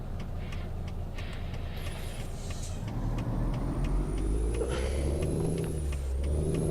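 Freightliner Cascadia truck in American Truck Simulator slowing and coming to a stop, a deep steady diesel rumble with shifting engine tones and a high brake whine, no talk.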